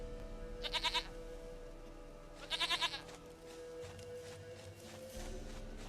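Two short bursts of goat bleating from The Witcher 3, each a quick wavering series of nasal bleats, over a low steady game ambience with a faint rumble.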